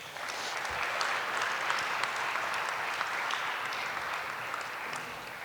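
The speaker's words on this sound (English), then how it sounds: "Let's give them another round of applause." An audience applauds the wind ensemble at a Veterans Day ceremony, a dense, even burst of clapping from a large crowd, sustained steadily throughout.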